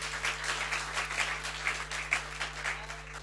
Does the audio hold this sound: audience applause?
yes